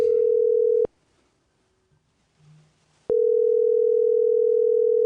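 Outgoing phone call ringback tone, two long steady tones separated by a quiet gap with faint background noise, loud and close, no talking.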